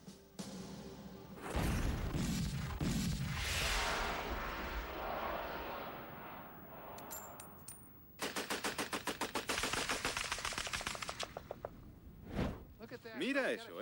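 Bursts of rapid machine-gun fire, a dense rattling stream of shots, with booming blasts and indistinct talk mixed in.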